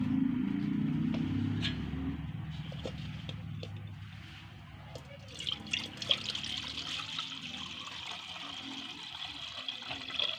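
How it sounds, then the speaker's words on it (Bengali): Water is poured into bael fruit pulp while making sherbet, a steady close trickle and splash throughout, with faint background rumble and small clinks. "আমি জলটা দিই"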